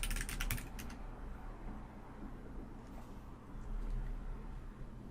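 Password being typed on a computer keyboard, a dense burst of quick key clicks at the start, then softer, sparse tapping over steady low room hum.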